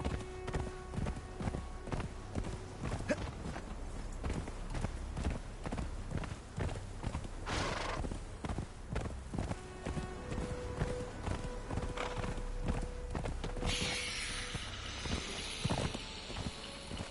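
Horse hooves clip-clopping at a walk in the Conan Exiles game, a steady rhythmic series of hoof falls that continues throughout beneath soft wind and faint ambient game tones, with no voices.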